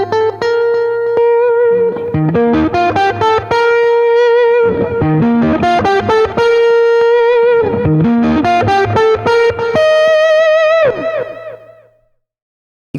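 An electric guitar played through a Radial Elevator boost and Bogner Ecstasy Red pedals rings out loud and distorted, strummed chords and sustained notes in bursts before fading out to silence at the end.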